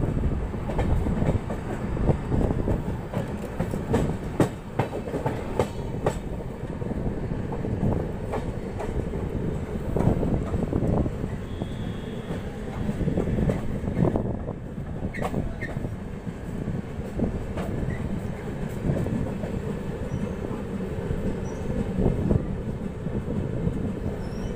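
The Saharsa to New Delhi Vaishali Clone Express rolls slowly through a junction, heard from on board: a steady rumble with irregular clanks and rail clicks throughout, and no voices.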